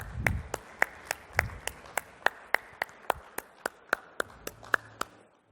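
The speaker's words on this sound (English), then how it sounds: "A big round of applause," Sparse, distinct handclaps from an audience as a team comes on stage at a business address on payments, sharp isolated claps at a fairly steady pace, moderately faint, with no talk.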